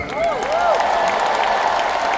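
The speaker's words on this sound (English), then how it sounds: "Can we give them both a big, big clap?" A big crowd applauds and cheers at a Tim Storey event in Edmonton, a dense steady roar of clapping with a few rising whoops near the start.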